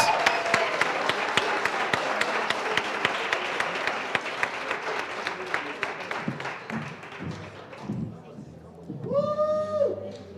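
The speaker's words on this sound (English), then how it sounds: "Can we give them a round of applause?" Audience applause at a business workshop in Katlehong, a dense burst of clapping with sharp individual claps that thins and fades, followed by a voice speaking over the last scattered claps.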